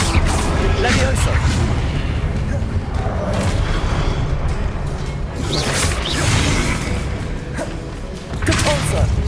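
Levioso spells are cast repeatedly during a Hogwarts Legacy battle, giving whooshing bursts and heavy booms and thuds in a constant wash of combat noise, with voices talking throughout.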